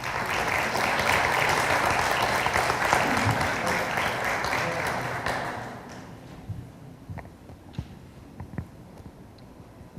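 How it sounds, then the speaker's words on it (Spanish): An audience at an academic lecture event applauds strongly for about five seconds, then the clapping fades to a few scattered claps and room noise. "Para ambos les pido un fuerte aplauso."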